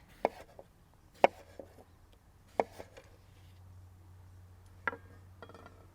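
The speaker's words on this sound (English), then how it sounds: "I'm going to cut this cucumber and I'm going to rest my knuckles right on top while slicing down all the way through the cucumber" A chef knife slices down through a cucumber on a board in a few sharp, separate chops, close and fairly crisp, with quiet gaps between strokes.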